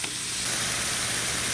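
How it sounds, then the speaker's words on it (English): Thawed meat sizzles in a hot pan, a loud steady hiss and spatter of frying that runs unbroken with no talk. "So let me let this cook a little bit more so we can chop it up."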